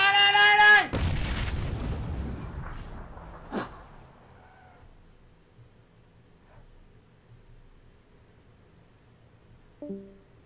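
Explosions from bombs in the battle game PUBG: a loud, dense boom at the start that decays into a long rumbling tail, then a sharper blast, with a small burst near the end.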